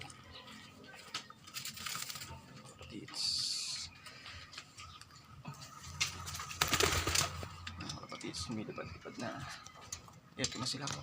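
Pigeons coo softly and repeatedly close by, with wing flutters and scuffling in between, while a person speaks quietly over them.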